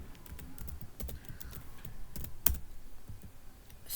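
Steady, fairly quiet clicking of keys on a computer keyboard while writing a bash script function, an irregular run of taps with one sharper click midway and no talk.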